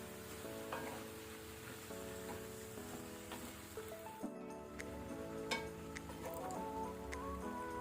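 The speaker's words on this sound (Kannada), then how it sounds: "ಈಗ ಫ್ಲೇಮನ್ನು ಲೋ ಟು ಮೀಡಿಯಮಲ್ಲಿ ಇಟ್ಕೊಂಡು ಹಾಗಲಕಾಯನ್ನು ಬೇಯಲಿಕ್ಕೆ ಬಿಡುವ" Bitter gourd and mango pieces fry with turmeric in a pan over low to medium flame, giving a soft, continuous sizzle under background music.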